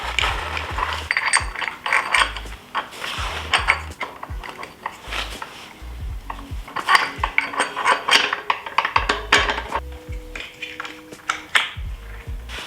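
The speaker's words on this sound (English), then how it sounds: "we're going to go ahead and install the front wheel." Metal parts clink and ratchet as the front wheel goes onto a Honda CRF300L, with a busy run of close tool clicks, light clanks and scrapes of axle hardware, irregular and moderately loud, with no voices.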